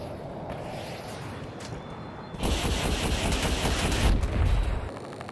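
Jet cannon fire in a Battlefield video game: a rapid, dense roaring burst of automatic shots that begins abruptly partway in and runs loud and continuous to the end, over low engine noise.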